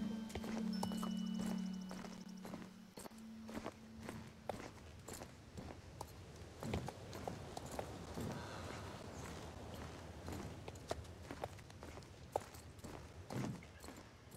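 Horse hooves clip-clopping in a steady walking rhythm in the video game Star Stable, a moonlit-coat horse moving through a town, fairly close, with a brief whinny and a low tonal hum early on.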